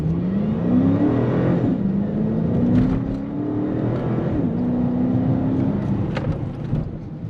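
A Dodge Charger R/T with a 5.7 Hemi V8 rises and falls in steady engine tones as it accelerates, then eases off and brakes hard. It is heard from inside the car, loud and continuous, with no talk.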